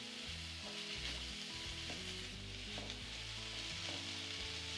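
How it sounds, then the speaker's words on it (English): Onions sizzle and fry steadily in a pan with spices, a continuous crackling hiss, while a spoon stirs through them with soft, intermittent scraping knocks underneath. "Continue cooking the onions, stirring until they are just barely softened."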